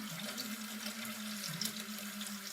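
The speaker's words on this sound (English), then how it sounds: "our water's now coming out, and our pump is in the water." A small water pump sitting in water pushes out a steady, faint, hissing flow of water.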